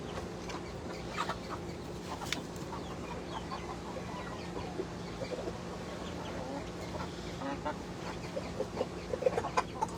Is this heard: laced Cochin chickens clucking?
yes